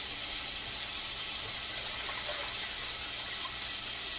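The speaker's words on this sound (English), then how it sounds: "But you just pour the excess water out." Excess water is poured out of a cooking pot into a sink, a steady, loud rushing stream that continues without a break and with no voices.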